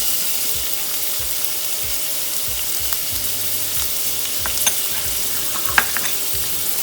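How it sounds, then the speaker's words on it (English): Onion sizzling in about three tablespoons of hot oil in a pan for a dabeli stuffing, a steady loud hiss with a few faint stirring clicks and scrapes, no voices. "add 3 tablespoons of oil in a pan and add some onion"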